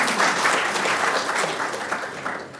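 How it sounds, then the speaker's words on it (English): Steady applause from a conference audience at a talk about a HackRF low-cost software-defined radio project, sustained clapping from a sizable crowd throughout, fairly close and even in level. "so give him a big round of applause"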